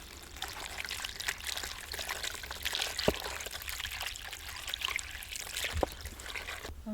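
Water poured and trickling over curry leaves and other ingredients being washed for a chickpea dish, a soft steady stream with a couple of sharper splashes, fairly faint and alone.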